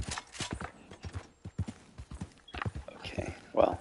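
Steady clip-clop of horse hooves walking at an even pace in the video game Red Dead Redemption 2, mixed with a voice talking over it.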